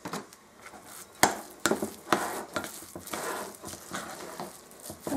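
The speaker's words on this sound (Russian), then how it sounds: "Вот вымешивается такое." Syrniki dough of cottage cheese, semolina and oat flour is stirred in a bowl, the spoon scraping and knocking in soft irregular strokes, fairly quiet with no talk.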